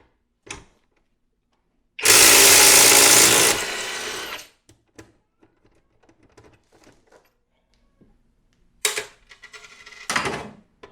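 A Kobalt 24V 3/8-inch right-angle cordless impact wrench breaks a nut loose in one loud, sustained burst of rapid hammering, followed by scattered small clicks and two shorter bursts near the end.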